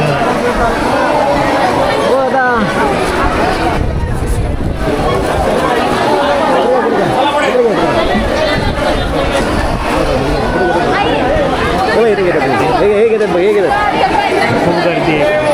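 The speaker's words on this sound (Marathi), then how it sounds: "खूप गर्दी आहे." A large crowd of pilgrims waiting for darshan at a Hindu temple in Akkalkot or Tuljapur, a loud, continuous babble of many voices with a voice speaking over it.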